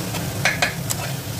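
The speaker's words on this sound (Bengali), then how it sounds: "দিয়ে একটু ভালোভাবে মশলাটাকে এই নেড়ে নেড়ে কষিয়ে নেব" Spice masala for chole being stirred and fried in a pan, a steady soft sizzle with a few brief scraping stir strokes near the middle, close and moderately quiet.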